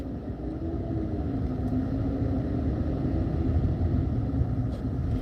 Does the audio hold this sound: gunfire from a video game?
no